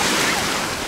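Surf rolling onto a beach at Pandawa on Bali, a steady broadband wash of breaking water with wind noise buffeting the microphone, loud and close with no break.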